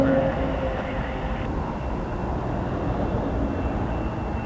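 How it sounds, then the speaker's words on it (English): Republic Embraer 175 airliner at Toronto Pearson, a steady broad engine roar with a faint whine, heard from a distance and continuous throughout, no talk. "Here we have Republic Brickyard 4382 headed to LaGuardia."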